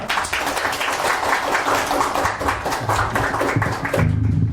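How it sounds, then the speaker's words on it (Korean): A crowd claps steadily in dense, continuous applause that fills the space, with a low murmur underneath. "큰 박수 부탁드리겠습니다."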